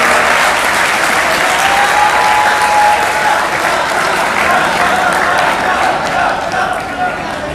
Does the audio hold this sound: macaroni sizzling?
no